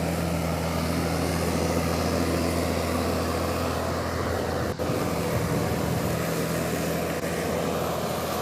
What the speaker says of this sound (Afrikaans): So luister na die trekker se engine.